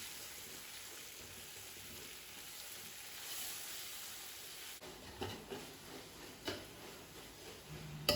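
Ginger garlic paste sautéing in oil in a pan for chicken biryani, a steady soft sizzle that later breaks into a few light crackles and stirring knocks, quiet and close.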